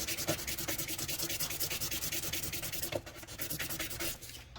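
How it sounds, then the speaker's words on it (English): Sandpaper rubbing back and forth over the sharp cut edges of a modified metal lock key for a Honda S2000 hardtop, a steady fast rhythm of close, loud scraping strokes with a brief pause near the end. "I usually just sand it"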